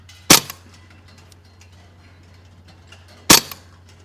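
A Karma SLS .22 air rifle fires two sharp, loud cracks about three seconds apart, each with a short ringing tail over a faint low hum, close by and with no talking.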